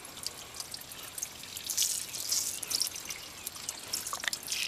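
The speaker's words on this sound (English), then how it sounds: "I just simply go with the hose and I can just start rinsing the soap and any of the dirt off the rims themselves" A regular garden hose rinses soap and dirt off car wheel rims, a faint continuous spray with patters and drips heard from a moderate distance.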